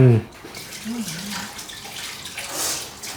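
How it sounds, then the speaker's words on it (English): Soy sauce pours and splashes steadily over chicken for a few seconds, with a brief voice at the start and a soft murmur partway through. "pour that sauce all on top of that chicken there"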